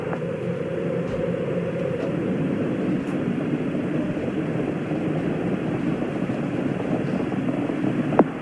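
Space Shuttle Challenger's rocket engines during its 1986 launch, just after clearing the tower: a loud, steady, broadband roar that rumbles on without a break for the whole stretch, with no voices over it.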